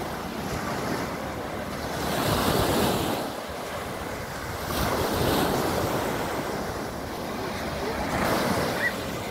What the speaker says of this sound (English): Nice beach, nice weather today.